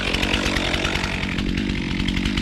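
A chainsaw cuts into a standing tree during felling, its loud, steady engine drone and chain whine holding close and continuous throughout.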